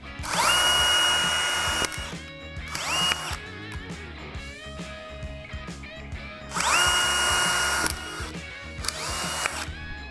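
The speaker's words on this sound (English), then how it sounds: "I'm gonna go ahead and pre-drill these holes." A power drill with a 1/8-inch bit whirs in three bursts, pre-drilling holes on a Harley-Davidson Road Glide, each a sustained high-pitched spin, separated by quieter pauses with faint handling noise.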